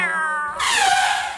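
A pet cat gives a short drawn-out meow, close and fairly loud, rising then falling over about a second, following a brief burst of another high voice.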